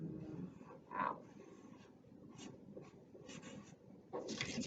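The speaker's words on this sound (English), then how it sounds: "So I'm going to write the word mouth." A pen writes a word on a surface during a lesson labelling a giraffe's parts, a faint, close scratching and rubbing that comes in short strokes with small pauses.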